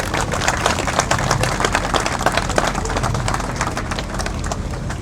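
An audience claps for Lovepreet Singh at a talk, producing steady, dense applause that continues evenly throughout with no voices over it.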